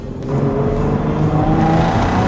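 A 2015 Hyundai Genesis Coupe 3.8 R-Spec with a 3.8-liter 348-horsepower engine accelerates hard after a downshift, giving a loud, close, steady engine roar that climbs in pitch.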